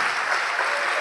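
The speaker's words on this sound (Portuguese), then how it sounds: "Vamos aplaudir ao nome de Jesus." A church congregation applauding together, a loud, even wash of clapping filling the room without pause.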